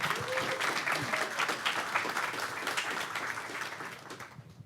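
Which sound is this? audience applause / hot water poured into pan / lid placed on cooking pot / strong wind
audience applause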